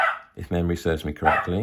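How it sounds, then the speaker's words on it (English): A pet dog barks indoors in a few quick, close yaps that overlap a person talking nearby. "apologies that my dog is barking"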